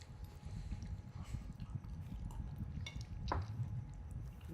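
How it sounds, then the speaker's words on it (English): Low, rumbling, buffeting noise of wind on Mars picked up by a seismometer, steady and muffled, with faint scattered crackles and rustles above it. "that's the sound of wind on the red planet"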